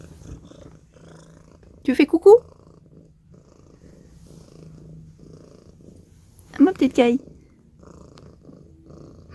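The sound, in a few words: cat purring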